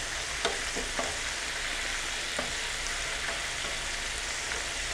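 Buffalo chicken wings frying in hot oil, a dense steady sizzle and crackle with scattered pops and a few soft scraping knocks from the pan, continuous and fairly loud with no voices.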